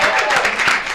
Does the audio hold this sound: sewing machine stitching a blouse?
no